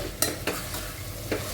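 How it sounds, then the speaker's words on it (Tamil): Onions and tomatoes being sautéed and stirred in a pan for mutton biryani, with a steady low sizzle broken by three brief scraping stirs, close and moderately loud, no talking. "தக்காளி சேர்த்து நல்லா வதக்குங்க."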